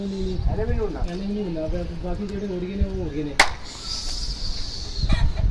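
Pigeons coo softly in low, wavering calls, with a sharp clap or click midway and faint outdoor noise around them.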